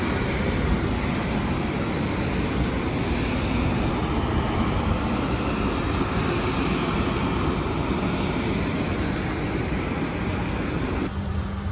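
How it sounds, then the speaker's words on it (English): Steady, loud engine drone fills the whole stretch, a constant broadband roar like a small propeller plane heard from inside the cabin, from the very back row, flying from Bohol to Coron in the Philippines. "We're on the plane and we're on the very back row."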